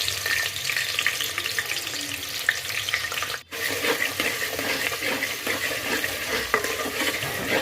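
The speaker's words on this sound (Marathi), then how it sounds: "ते फ्राय करून झाले की त्यामध्ये कांदा टाकून तो फ्राय करून घ्यायचा" Onion frying in oil with whole spices for masale bhat, a steady dense sizzle with occasional clicks of stirring, close and continuous apart from a brief cut midway.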